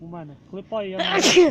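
A person sneezes loudly and close, a sharp burst that follows a few words of speech, while someone works on a scythe blade.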